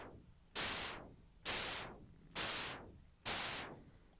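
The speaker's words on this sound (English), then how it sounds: "So it's a short noise burst basically." Four evenly spaced, short noise bursts from an analog synth oscillator in Ableton, each hissing on sharply and decaying quickly, repeating as a steady loop with nothing else audible.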